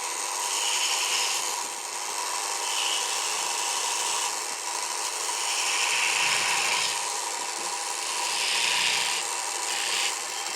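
A hand tool rasps and rubs along a wooden kransekake ring tree in repeated smoothing strokes. The scraping is close and steady, rising and falling with each pass, and no one talks.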